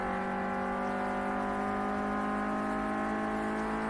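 Clio Cup race car engine from a sim racing game at Oulton Park, a steady whining drone holding a nearly constant pitch, loud and alone with no audible gear changes.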